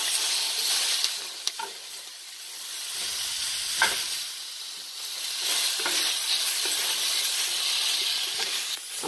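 Tomatillo avocado salsa ingredients sizzle in a hot cast iron skillet with a steady, bright frying hiss. A few soft stirring knocks break in briefly, and no talking is heard.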